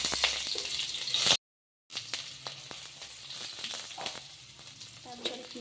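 Onions and whole cumin seeds frying in hot oil in a pan for a bamboo shoot dish, a steady close sizzle with crackling pops, briefly cut off partway then resuming.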